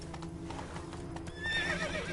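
Roach the horse in The Witcher 3 video game: clip-clopping hooves run steadily throughout, then a loud, close whinny rises near the end, all without speech.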